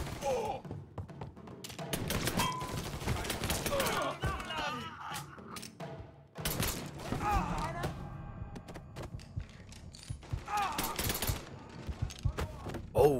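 Bursts of gunfire in the video game Mafia III, loud cracking shots in clusters with pauses between, mixed with impacts and shattering, while someone talks over the action.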